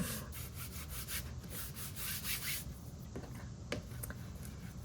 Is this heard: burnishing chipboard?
yes